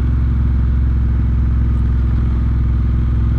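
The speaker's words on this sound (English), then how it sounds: "even like just riding down the street like this" Triumph Bobber motorcycle riding down a street, a loud, steady low engine rumble with continuous throbbing exhaust and no variation in pace, heard close up without any talk.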